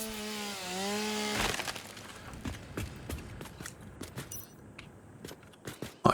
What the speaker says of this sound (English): I might have to get rid of these trees.